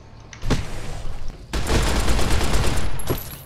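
Submachine gun fire in Fallout New Vegas, close and loud: a short burst, a brief gap, then a long continuous rapid volley of shots that ends with one last report.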